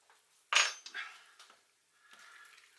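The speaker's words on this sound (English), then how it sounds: "And stir that in nicely" Spoon stirring garam masala into a pot of king prawn curry, one sharp metallic clink followed by a few softer scrapes and taps against the pot, faint and close, no talking.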